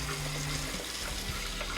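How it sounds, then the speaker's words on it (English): Cold water from a kitchen tap pours steadily through a colander of drained cooked potatoes in a sink, a close, continuous splashing rush with no voices. "I'm gonna run some cold water through the colander to stop the cooking"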